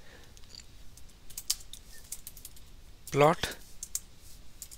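Light, scattered keystrokes on a computer keyboard while writing code, a few soft clicks spread across the moment, with a brief spoken word in the middle.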